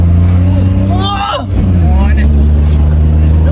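A car's engine drones low and steady while driving with the windows open, its hum running through the whole stretch as voices talk over it.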